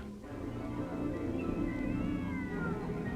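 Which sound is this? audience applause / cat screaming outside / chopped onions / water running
cat screaming outside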